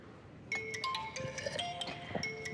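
A mobile phone in a Chinese drama plays a melodic ringtone for an incoming call, a bright tune of repeated high tones that starts abruptly and rings on clearly and close.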